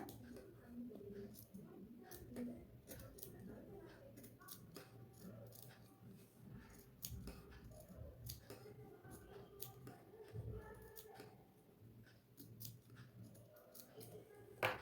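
Scissors or a cutter snipping through fabric along the curved neck area of a yoke nighty, near the stitching, with short crisp cuts in an uneven rhythm at close range.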